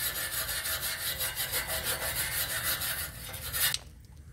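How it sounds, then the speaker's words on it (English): Wire brush scrubbing heavy rust inside a muffler for a 1988 Nissan 300ZX, with steady, rapid back-and-forth rasping strokes that stay loud and continuous before stopping abruptly near the end. "I'm going to use a wire brush to clean up the inside"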